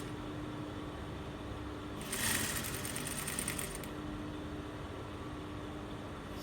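A sewing machine stitching around the curved edge of an iro and buba outfit gives a short, steady mechanical whir of under two seconds, faint against a quiet room hum.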